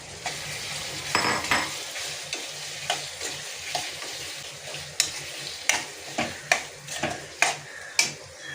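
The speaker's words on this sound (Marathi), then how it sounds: "ह्याच्यात आपण आता ही मॅरिनेटेड केलेली प्रॉन्स मिक्स करून घ्यायचे आहेत." Marinated prawns stirred into cooked tomato masala in a hot pan sizzle steadily under repeated scrapes and knocks of a spoon. The strokes become a regular beat toward the end, with no talking.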